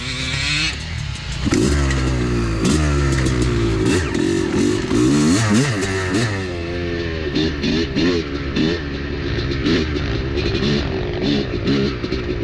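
A Honda two-stroke dirt bike with its power valve held open is ridden up close, the engine loud and buzzing as it revs, lugs and climbs through the gears, with some clatter and no talk.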